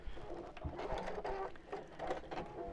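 A sewing machine stitches through fabric in a steady, quiet mechanical whir with faint repeating pulses, running throughout without any voices.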